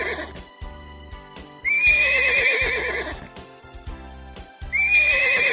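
Horse neighing twice, each a loud wavering whinny lasting a second or so, separated by quieter snorts and shuffling sounds.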